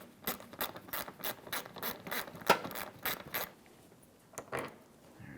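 A Phillips head mounting screw being removed from a 2016-2022 Honda HR-V during headlight replacement, heard as a run of close, quick ratcheting clicks, then a short pause and a few more clicks, with no talk.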